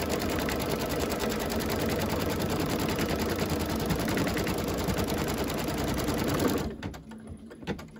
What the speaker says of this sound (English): I'm just going to stitch right over that previous one.